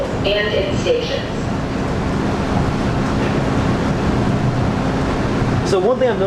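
MBTA Orange Line train running at rush hour near Forest Hills, a steady loud rumble of traction motors and rolling wheels with a sustained hum, a rising whine near the end, and faint voices underneath.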